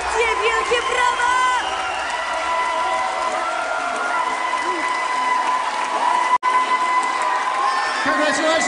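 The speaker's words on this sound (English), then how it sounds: "Give them your support, the loudest round of applause possible!" A large audience at the Miss Supranational 2021 pageant final cheers, whoops and applauds the top five contestants in a steady, loud roar of crowd noise with an announcer's voice carrying over it.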